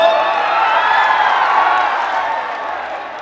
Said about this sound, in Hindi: एक बार ताली बजा के बताओ ना हो